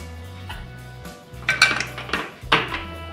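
Sesame and jaggery ladoo mixture being mixed with ghee in a pan, with a few scraping, clinking utensil strokes against metal, the loudest around the middle and near the end, with quieter scraping between.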